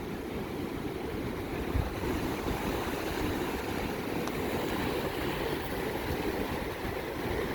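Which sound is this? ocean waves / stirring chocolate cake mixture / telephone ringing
ocean waves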